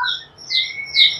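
A murai batu giras, a white-rumped shama, gives a short series of three harsh squawking calls, close and loud, with brief gaps between them.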